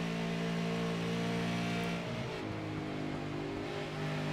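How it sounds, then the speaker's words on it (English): A touring race car's engine holds a steady high-revving drone at Dover in a racing video game, its pitch wavering and dipping midway before climbing again, loud and close with no talk over it. "You can hear Hayden's throttle as well."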